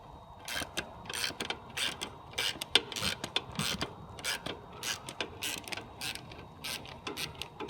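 A 3/8-drive ratchet with an extension and 14 mm wobble socket clicks steadily while loosening the starter bolts on an Isuzu Trooper, giving close, rhythmic bursts of pawl ticks in repeated short strokes.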